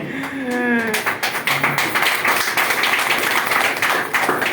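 Audience clapping at a business plan presentation, sharp close claps starting just after a voice and building into steady group applause that carries on to the end.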